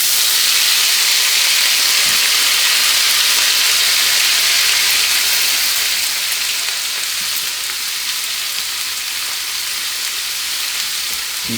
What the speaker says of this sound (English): The pan's already hot. Throw that oil on there. Start with the peppers.